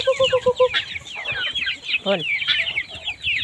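Chickens cluck in a farmyard at dusk alongside ducks, a hen with small chicks, with repeated clucks and chirps over a steady layer of bird calls and some chatter nearby.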